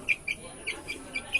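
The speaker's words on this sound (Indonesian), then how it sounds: "Ini ayam betina ya." A brown hen of the mangun breed gives a series of short, sharp clucks at an irregular rhythm, close but fairly quiet, with a soft voice underneath.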